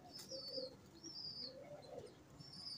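A pigeon coos in soft, repeated low calls, three gentle phrases close by but faint, with light chirps from other birds in a quiet room.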